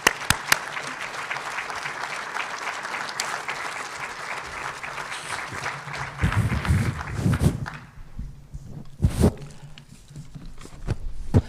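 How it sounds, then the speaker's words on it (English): An audience at a 2022 MLK Breakfast event applauds steadily as a guest speaker is welcomed, the dense clapping holding for several seconds before thinning out and fading, with a few scattered claps at the end. "with a round of applause"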